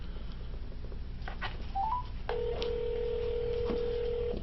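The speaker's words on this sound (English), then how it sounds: "I hope your phone is ringing" A few short DTMF keypad beeps from a phone being dialed, followed by a long steady outgoing ring tone that carries on for about two seconds, clear and close with a light background hiss and no talking.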